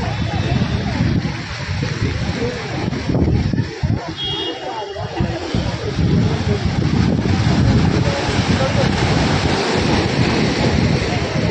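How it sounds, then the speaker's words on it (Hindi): Strong sea waves surge against the seafront at Marine Drive, Mumbai: a loud, continuous roaring wash mixed with wind buffeting the microphone, with faint voices now and then. "बस लहरें देखते रहिए, आज लहरें भी पहले से काफ़ी तेज है।"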